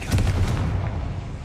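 A fiery Confringo spell explosion in a video game: one heavy, booming blast with a rumbling, full-bodied roar that fades over about a second, loud and close.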